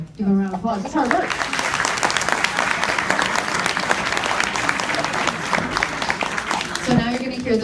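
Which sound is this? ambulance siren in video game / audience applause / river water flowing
audience applause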